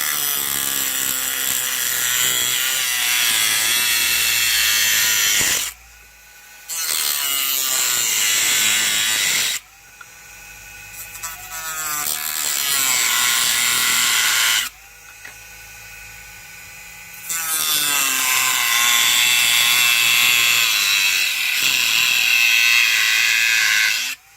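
A Dremel cutting wheel slices through a prop trooper helmet ear piece, a loud high-pitched grinding whine in long bursts separated by short pauses, close up with no voices.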